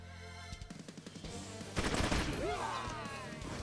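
Rapid bursts of automatic gunfire in the video game Troubleshooter rattle in quick succession, growing denser and louder midway, with a whooshing sweep near the end.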